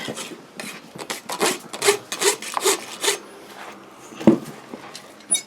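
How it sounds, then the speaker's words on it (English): Horseshoe clinches being rasped off a hoof during a trim and reset: a run of dry, scraping rasp strokes in steady rhythm, close and moderately loud, with one sharper knock near the end. "Basically, the first step will be to rasp off the old clinches."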